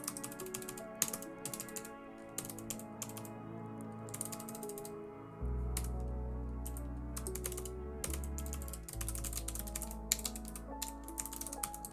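Rapid typing on a computer keyboard: dense, clattering bursts of close key clicks that run in quick irregular flurries, with short pauses, over a steady low electrical hum that grows louder midway, and no talking.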